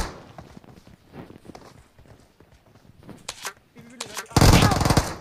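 Rapid automatic gunfire in the mobile shooter game BGMI bursts loud near the end, after scattered footsteps and lighter in-game shots, with a voice talking over parts of it.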